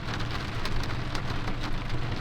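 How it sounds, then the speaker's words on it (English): Heavy rain drums steadily on a truck camper during a record-breaking Utah rainstorm, a dense continuous patter with brief sharper drop hits and no voices. "So it actually says the rain's supposed to stop in the next hour."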